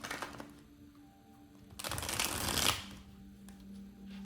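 A stiff deck of cards being riffle-shuffled up close, one brisk burst of fluttering card noise in the middle with quiet handling around it.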